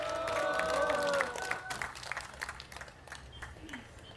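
A crowd at an outdoor labor union memorial rally near Sangnoksu Station claps and cheers, starting dense and loud and then thinning into scattered claps, with a brief tonal sound at the start.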